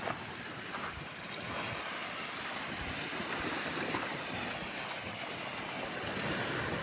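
Steady, gusty wind roars across the microphone at Alameda Harbor Bay in California, a broad continuous rush with faint water wash underneath and no voices.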